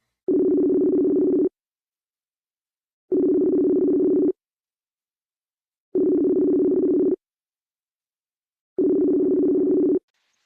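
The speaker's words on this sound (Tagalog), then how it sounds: "Tawagan ko to ha. Tawagan ko to." A telephone ringback tone heard while placing a call: four long buzzing rings, each about a second and a half, separated by silent gaps of roughly one and a half seconds.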